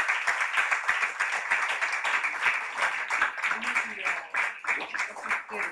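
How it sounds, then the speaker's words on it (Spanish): An audience claps at a conference session on prisons in Catalonia. The claps are thinner and more distinct, a steady patter that fades slightly toward the end, with a voice speaking over it. "Crec que es mereixen una mica d'aplaudiment"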